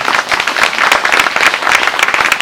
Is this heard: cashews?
no